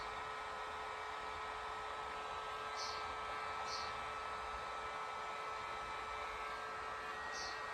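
A heat gun blows steadily on a part during a restoration of a 1983 Yamaha XJ900 Seca motorcycle, a constant, fairly faint airy whir with a whine, broken by a few short clicks.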